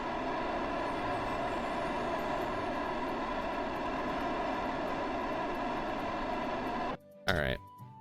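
Rocket engines fire in the Kerbal Space Program video game, a loud, steady roaring drone held for about seven seconds before cutting off abruptly, followed by a brief louder burst.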